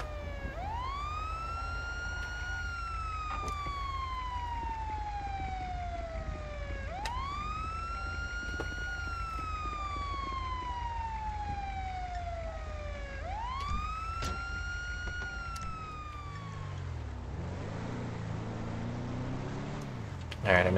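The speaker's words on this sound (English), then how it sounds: "Ambulance is on. Oh, there it is." A video game ambulance siren wails in long rising and falling sweeps, loud and continuous, then changes to a different pattern near the end.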